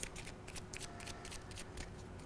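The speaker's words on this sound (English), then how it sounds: "if I were to take a pack of cards and shuffle it" A pack of playing cards being shuffled, giving a quick run of crisp, papery riffling bursts close by with no talking.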